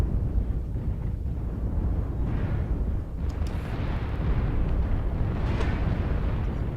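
Heavy, rumbling weapons fire and explosions roll through a MechWarrior Online battle between giant mechs, with a dense low-end roar and a few sharper bursts in the middle and near the end.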